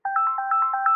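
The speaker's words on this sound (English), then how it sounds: "I'm getting a phone call." A loud phone ringtone plays close by, a rapid run of alternating two-pitch electronic beeps in a steady pulsing rhythm that fills the whole moment without any talk.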